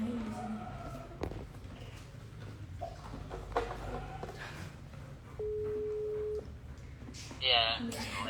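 A telephone ringing tone sounds once as a steady electronic beep lasting about a second, set among people talking and room noise.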